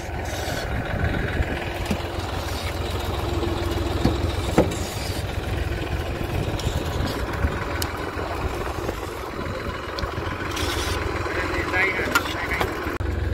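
Tractor engine running steadily in a field while spreading manure, a continuous low rumble throughout with occasional clanks.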